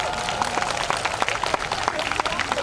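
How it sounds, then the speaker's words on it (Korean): A crowd at an outdoor family festival in Incheon claps briskly for parents of many children, a close, dense burst of applause with a voice heard over it. "다둥이 부모들을 축복하는 마음으로 박수 쳐주시기 바랍니다"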